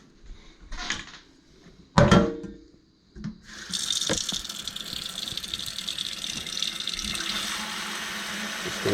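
Kitchen tap water pours into a pan holding deer meat, a steady hiss lasting several seconds after a few clatters and knocks of the pan and utensils.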